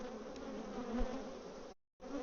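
Bees at an opened backyard hive give off a thick, continuous buzzing drone that swells briefly, then cuts out for a moment before resuming.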